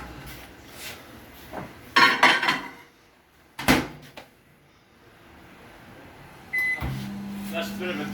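An office microwave hums steadily while cooking a steak, set among cupboard clunks, dish clatter and handling noises, and a beep rings out before the low drone begins.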